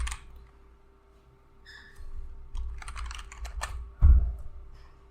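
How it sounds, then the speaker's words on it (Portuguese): Someone types on a computer keyboard to enter a search in the Start menu of Windows Server 2025. Quick clusters of close, light key clicks are followed by a heavier thump like a final keystroke, with no speech. "Digitei PowerShell no menu iniciar."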